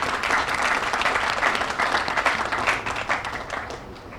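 Sustained audience applause fills a hall at a county community development grant award event, a dense steady patter of many hands that thins slightly toward the end.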